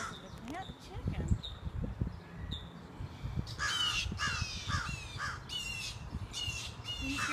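A raven caws in harsh, repeated bursts close by in an outdoor setting near an owl, with several loud calls clustered in the second half and a person talking at times underneath.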